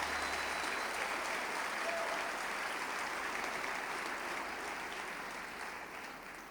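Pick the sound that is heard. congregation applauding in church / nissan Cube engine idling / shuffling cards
congregation applauding in church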